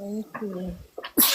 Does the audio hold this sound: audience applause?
no